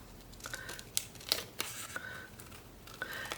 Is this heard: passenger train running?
no